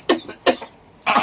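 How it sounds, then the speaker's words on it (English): Three short, sharp coughs from one person indoors, each a quick harsh burst with brief pauses between, close and fairly loud, the last slightly longer. "Cough on the beat."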